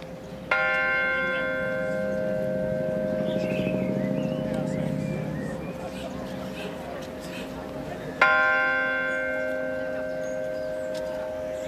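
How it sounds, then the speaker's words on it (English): A memorial garden bell at RAF Brize Norton, funded by the local community, rings two clear, resonant strikes about eight seconds apart, each tone hanging and slowly fading over a low background. "The focus is the memorial garden with its bell, funded by donations from the local community."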